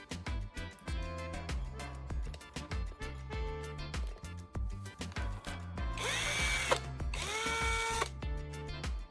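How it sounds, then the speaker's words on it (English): A cordless drill spins a clean carbon rod while its tip is sharpened against sandpaper, giving a near, loud whirring grind in two bursts over steady rhythmic background music. "I'll use a drill to carefully sand and sharpen the tip against this piece of sandpaper"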